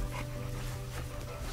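Cane Corso puppies, fawn and formentino, yipping and whimpering softly under a steady low hum of room noise, with faint, indistinct barks throughout.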